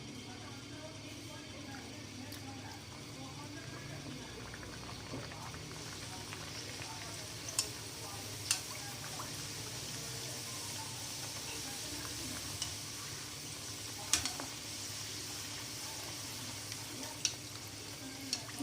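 Whole wheat puris fry in hot oil with a steady close sizzle and bubbling. Occasional sharp pops and spoon clinks rise above it, and someone talks softly throughout.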